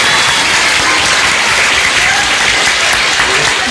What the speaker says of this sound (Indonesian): tepuk tangan untuk pertanyaan yang pertama kita